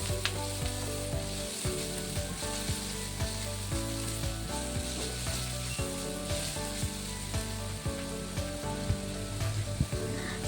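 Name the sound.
sautéing onion, garlic and ginger in a pan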